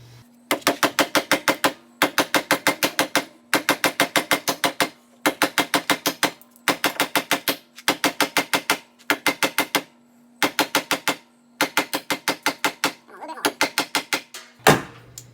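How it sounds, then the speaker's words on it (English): A Microtech Socom Elite knife cuts across the grain of a piece of wood in rapid, evenly spaced scraping strokes, grouped into repeated bursts with short pauses between them, close and fairly loud over a steady low hum. "Here's a piece of wood. Let's cut through this."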